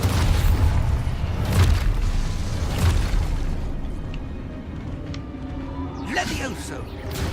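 Expulso explosion spells in Hogwarts Legacy go off as heavy, rumbling booms and bursts in quick succession, with a voice talking over the blasts throughout.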